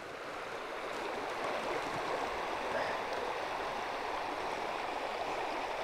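Small river currents running over rocks on the Montmorency River, a steady broadband rush of water that stays even and continuous throughout, fairly close, with no voices.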